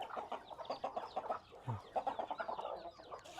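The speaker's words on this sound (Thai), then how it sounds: "เอาให้ไก่กินก่อน" Several farmyard chickens cluck continuously in rapid, overlapping bursts at close range outdoors at feeding time, with no talk over them.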